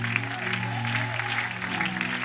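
Continuous applause from a church audience at a Sunday service, dense and even, layered over held keyboard chords.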